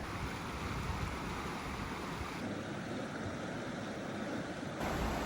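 Water at a Lake Tahoe campsite makes a steady, faint, broadband wash, like lapping shoreline or moving water heard from nearby, continuous with no voices.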